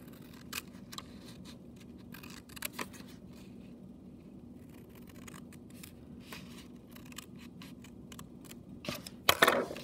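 Scissors snipping along printed lines on paper, with sparse quiet cuts over a low hum and a louder cluster of snips at the end.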